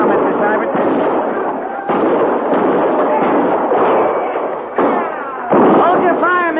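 Rapid bursts of gunfire crackle through a radio drama battle scene at an army camp, with repeated volleys and sharp pops close together. Voices shout over the shooting.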